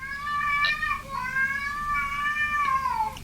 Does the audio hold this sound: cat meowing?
yes